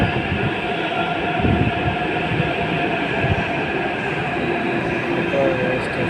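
Hyderabad metro train at a station, a steady loud rumble and hum of the train and platform filling the whole span, with a brief faint squeal near the end and no speech.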